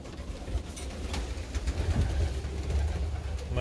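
Soft, low cooing of pigeons in a loft where baby pigeons have hatched, a continuous muffled murmur with faint rustling and a light engine hum in the background.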